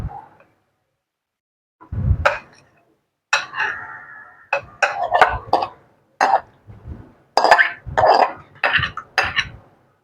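A spoon stirs and presses bael (wood apple) pulp through a strainer, giving intermittent scraping and tapping bursts with short pauses between strokes, close and fairly clear.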